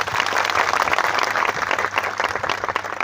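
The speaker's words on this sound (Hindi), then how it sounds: "हम लोग का बुरुई और बुमा को ताली दो" An audience applauds steadily and loudly at a Tipra community gathering in Khowai, a dense wash of clapping hands that runs without pause.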